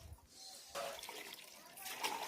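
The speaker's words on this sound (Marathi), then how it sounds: "बाथरूम मधनं पाणी ह्याच्यात पडतं बघा" Bathroom water draining into a pit filled with large stones, a faint trickling and splashing that grows after a brief pause, with speech quietly underneath.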